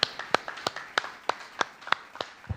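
A small congregation at a religious meeting claps in a sparse, slow, fairly even rhythm of separate distinct hand claps, faint and somewhat distant.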